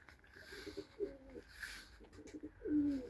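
Pigeons coo softly in a garden setting, two or three low throaty phrases with gaps between, faint and somewhat distant against quiet outdoor ambience.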